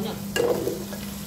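Carrots and potato frying in a pan, a steady low sizzle with a brief louder burst of crackle and stirring partway through, close and alone.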